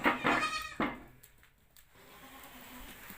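A goat that has recently given birth to two kids on a farm bleats twice in quick succession, close and clear, followed by quieter background noise.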